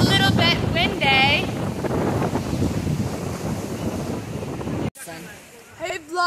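Gusty wind buffets the microphone with a steady low roar, and a voice talks over it before the noise briefly cuts out.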